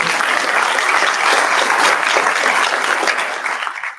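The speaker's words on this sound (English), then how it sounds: "give them a round of applause." An audience at a playground dedication breaks into loud, full applause, sustained clapping that holds steady before fading out at the end.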